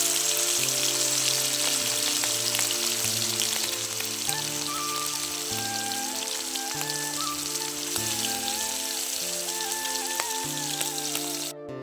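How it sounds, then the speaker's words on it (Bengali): Prawns fry in hot oil in a wok, giving a steady, dense crackling hiss that runs throughout beneath background music. "এবার আমি চিংড়ি মাছগুলোকে ভেজে নেব"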